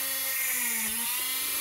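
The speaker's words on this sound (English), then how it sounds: "This drill is a mini craft. It's an old mini craft. It runs at 12 volts." An old 12-volt Minicraft mini drill drilling through a printed circuit board, giving a steady high-pitched whine with a slight pitch dip partway through, close and continuous with no talk.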